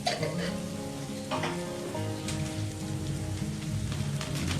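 Masala fries in a pan after salt and turmeric powder go in, a steady dense sizzle like light rain with faint stirring scrapes, close and continuous without any voices.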